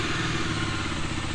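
A Bajaj Dominar 250 motorcycle with a chain tensioner problem runs close by, a steady loud engine drone with a faint rattling texture and no voices.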